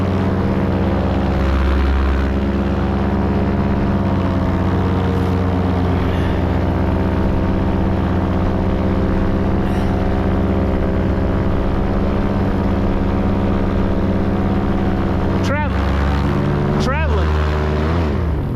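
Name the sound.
paramotor engine in flight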